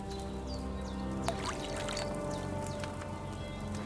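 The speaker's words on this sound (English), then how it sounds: "Pour some wine in there." Wine poured into a cooking pot in the medieval game Kingdom Come: Deliverance II, a steady liquid trickle running for several seconds over a constant low background hum, moderately close and alone without talk.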